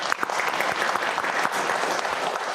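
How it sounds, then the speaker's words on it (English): A school board meeting audience applauding students and a choir, steady continuous clapping from a roomful of people with a faint murmur of voices underneath, sustained from start to finish. "we can clap for them"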